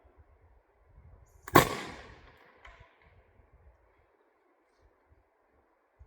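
Black powder gun fired once over a chronograph outdoors, a single sharp loud boom with a fading tail, followed by a faint echo and near silence.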